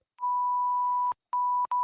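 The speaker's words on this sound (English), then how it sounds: "I can beep you out if you want me to." A censor bleep: a steady pure electronic beep held for about a second, then two shorter beeps in quick succession, loud and alone with no talk.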